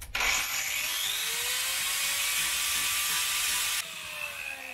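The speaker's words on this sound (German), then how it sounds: "Ich hole mal die Flex." A loud, steady high-pitched grinding whine from an angle grinder cutting continuously for several seconds, then the pitch shifts as the load eases.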